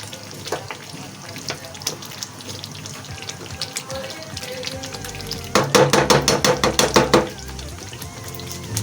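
About two cups of water are poured into a pot of potatoes for aloo palak curry with a splashing rush, after quieter clinks and kitchen sounds, ending with a burst of sloshing.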